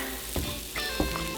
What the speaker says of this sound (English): I'm gonna cut this onion up, get it in the frying pan. I'm gonna use a smokehouse oil to saute the onions